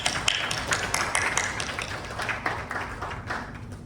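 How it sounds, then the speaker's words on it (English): An audience at an event gives a round of applause, dense steady clapping from many hands that fills the room evenly throughout. "A big round of applause to him, please."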